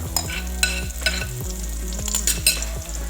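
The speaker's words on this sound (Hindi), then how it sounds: "ऑयल गर्म होने के बाद हम फ्लेम को थोड़ा और कम कर देंगे और पॉपकॉर्न इसमें डाल देंगे" Popcorn kernels fry in hot oil in a pan over a low flame, a loud continuous sizzle punctuated by stirring and scraping sounds, with no speech.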